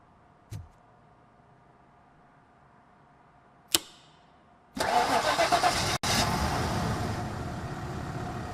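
In the RoboCop: Rogue City game, a car whose disconnected ignition coil has just been repaired cranks with a brief whir and then catches. The engine settles into a steady, loud, close idle after a couple of sharp clicks.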